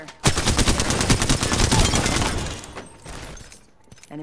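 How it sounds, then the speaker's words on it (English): Rapid bursts of video game gunfire crackle loud and close, a dense rattling volley that runs for over two seconds before thinning out, with a brief voice near the end. "Opening fire."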